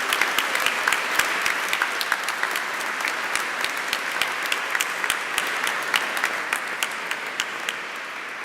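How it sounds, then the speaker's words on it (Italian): A cathedral congregation applauds at a Chrism Mass, a steady dense patter of many hands clapping throughout, moderately loud and reverberant, with no voices over it. "tutti noi oggi li incoraggiamo con un cordiale, bello applauso per loro"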